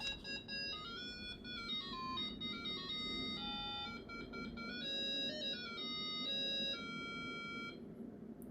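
A tinny startup melody of square-wave beeps from an RS-100 large-screen Tetris brick game console plays in a steady stepping tune for several seconds, with a low hum underneath and no voices.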